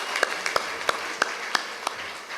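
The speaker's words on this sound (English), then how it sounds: "let's give them a round of applause even as they take their seats" Sparse, evenly spaced claps ring out at a livestreamed gathering as graduates take their seats, a few sharp individual hand claps over a quiet room tone rather than a full crowd.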